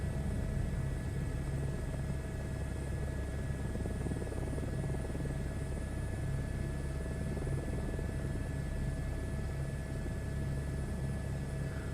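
A helicopter hovering in a VR flight game, a steady droning rotor and engine whine with a constant low thrum, loud and unbroken throughout with no talk.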